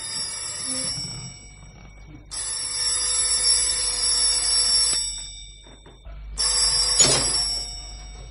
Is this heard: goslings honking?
no